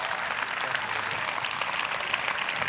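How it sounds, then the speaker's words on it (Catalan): An audience at an exhibition opening in Igualada applauds steadily, a dense continuous patter of clapping hands with no voices over it. "vull un aplaudiment per en Carles Prat Vives i l'Anna Marçal Rie"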